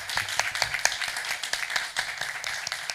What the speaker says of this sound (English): Please put a round of applause for our panelists today.